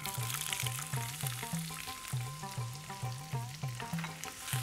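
Freshly chopped vegetables tossed into hot oil for Schezwan fried rice sizzle steadily, with rhythmic scraping and tossing strokes repeating roughly every half second, close and clear.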